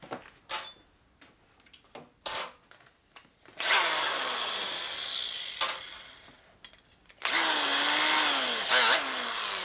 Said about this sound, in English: this thing will drill real good